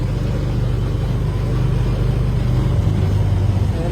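A tricycle's small motor runs in a steady, loud low rumble throughout, close by with no talk over it, as the rider pulls away from a garage.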